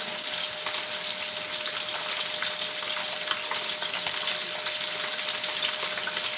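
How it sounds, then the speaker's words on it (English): Fish pieces frying in hot oil in a pot for Jamaican fried fish, giving a steady, close, crackling sizzle that holds evenly throughout with no talk. "So all of these now going to take them time and fry them."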